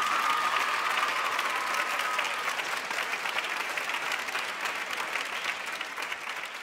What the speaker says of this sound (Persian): بچه ها حسن این رو تشویق کنید، استاد محسنی رو هم تشویق بکنید.